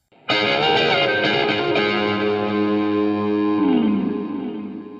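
Electric guitar lick through a Line 6 Helix, dense with distortion, chorus and reverb, played in the context of a song: full strummed notes ring out together and sustain, then a downward slide near the end before the tail fades.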